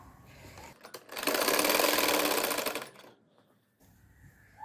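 An electric sewing machine runs in one loud, fast, steady burst of about two seconds as it stitches fabric for a poncha trouser hem with plates, preceded and followed by quiet handling noises.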